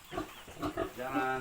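A female pig on a farm grunts and squeals in short bursts during artificial insemination, close and fairly loud, with a person speaking softly around the sounds.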